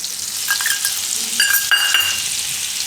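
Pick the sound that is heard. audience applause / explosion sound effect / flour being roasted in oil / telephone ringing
flour being roasted in oil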